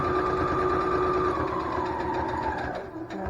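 Sewing machine back-stitching the wire pocket of a reusable face mask, a steady close whirring hum that runs continuously and slows slightly as it finishes.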